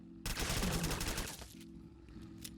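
A scrap handgun fires in Fallout 4 during a fight against a Deathclaw, a burst of rapid gunshots followed by a quieter tail with a faint later crack.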